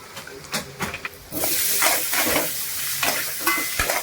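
Asafoetida and turmeric hit hot oil in a home kitchen pan, setting off a loud, steady sizzle and hiss after a few quieter stirring clicks, then crackling on for several seconds with no voices.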